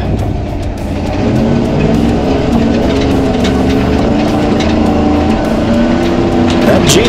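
An RC 4x4 tow truck wrecker pulls a Jeep downhill in a steady, continuous electric motor whine with gear noise and faint shifting tones, heard close and unbroken, with occasional voices behind it.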